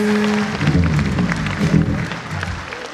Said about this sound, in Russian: Айшат Насрулаева и Тавуз Магомедова, им аплодисменты.